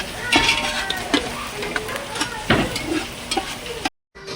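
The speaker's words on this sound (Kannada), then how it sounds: "ಇಲ್ಲಿ ನಮ್ಮ ಹಾಸನವರು ಚಿಕನ್ ಕರಿ ಮಾಡಲಿಕ್ಕೆ ಒಗ್ಗರಣೆ ಹಾಕಿದ್ದಾರೆ" Spices for a chicken curry tempering in hot oil at a resort, loud continuous sizzling and crackling with stirring knocks close by, cutting to a brief silence at the end.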